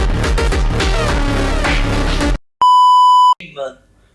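A steady high-pitched censor beep tone lasts under a second, cutting in after loud busy music and followed by a brief clipped voice.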